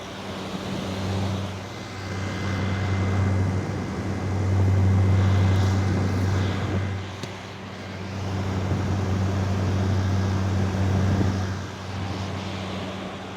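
A 2023 General Electric (Midea) 5,000 BTU window air conditioner running, a steady low hum from the compressor with a broadband fan rush that swells and eases slightly, close and continuous.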